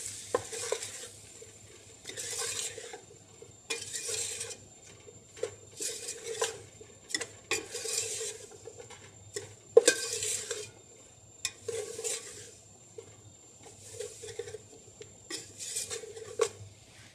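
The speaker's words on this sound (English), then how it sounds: "Add flour of equal amount to the butter and cook. Stirring frequently to produce a brown roux." A spoon stirs flour and butter cooking into a brown roux in a pan, giving soft rhythmic scraping strokes with a faint sizzle, quiet and close, repeating about every second or two.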